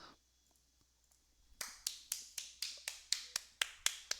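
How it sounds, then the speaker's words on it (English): A short burst of about a dozen separate hand claps, sharp and fairly close, rings out in an even rhythm after a quiet opening and carries on to the end. "Clap, clap, clap, clap, clap."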